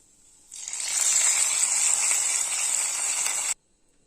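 Hot tempering poured into a pot of sambar gives a loud, bright hiss that starts abruptly, holds steady for about three seconds, and then cuts off sharply to near silence.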